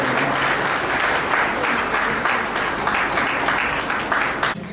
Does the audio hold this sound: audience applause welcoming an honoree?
yes